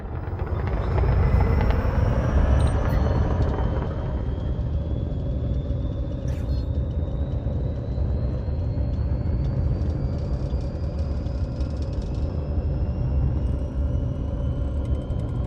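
A Pack Hound Viper spaceship in a video game lifts off with a loud, steady low rumble that never lets up, while a faint high tone slowly rises over it and a few short clicks cut through.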